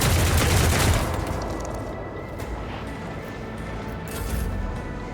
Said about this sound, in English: I want this guy down, so 20 shots in his direction,